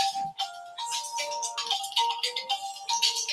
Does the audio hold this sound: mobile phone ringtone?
yes